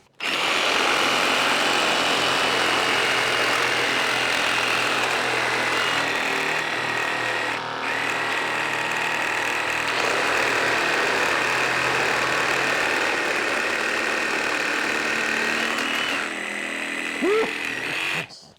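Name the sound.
reciprocating saws cutting particle board, Flex vs RSC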